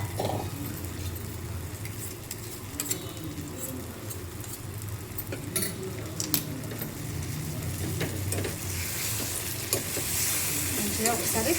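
Gongura chutney mixture is stirred in a hot pan, with a continuous low sizzle and scraping, occasional sharp utensil taps, and the sizzle growing brighter toward the end.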